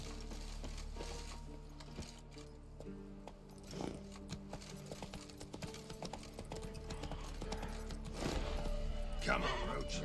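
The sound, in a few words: horse Roach's hooves in a video game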